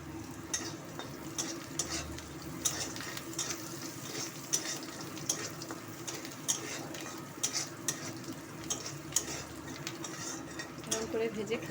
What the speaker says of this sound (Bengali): আজকে আমি ডাঁটিগুলোকে ভাজা ভাজাই করবো।